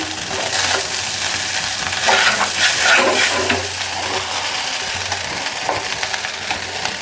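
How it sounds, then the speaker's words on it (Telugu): Vegetable fried rice stir-fries in a pan, a loud, close, continuous sizzle overlaid with repeated scraping and tossing as it is mixed, with no voices. "ఫ్రైడ్ రైస్ అంటే బాగా ఫ్రైడ్ కావాలి కాబట్టి ఫ్రై కావాలి కాబట్టి కాసేపు అయితే ఫ్రై చేస్తున్నాము"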